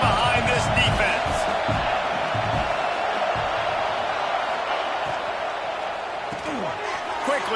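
A crowd roar fills a stadium in the College Football 26 video game, a constant loud wash of cheering that eases slightly over time while a commentator talks over it.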